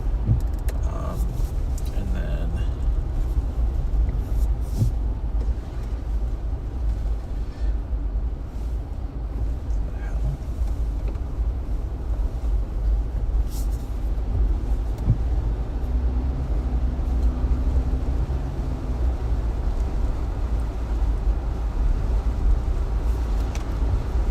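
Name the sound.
car driving on Hawaii highway 11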